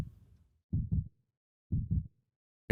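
A video game heartbeat effect, two slow, deep double thumps with silence between them, clean and isolated.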